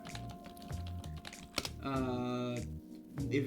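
Computer keyboard typing heard as quick clicky keystrokes in short bursts, close and fairly clear, with other voices and game or stream audio running underneath.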